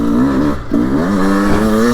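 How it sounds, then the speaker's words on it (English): A 2024 Beta 300 Race Edition two-stroke dirt bike with a dual-plug engine revs on a cold ride, a loud close buzzing engine note that dips briefly, then climbs and holds steady. "But this dual plug engine,"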